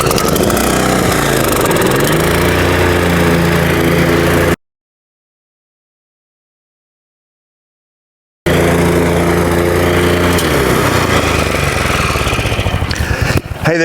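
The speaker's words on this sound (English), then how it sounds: "this feels some kind of good to be back out here mowing" Lawn mower cutting a bluegrass lawn, a loud steady engine drone close by that runs without a break, cuts to silence for about four seconds, then comes back just as loud.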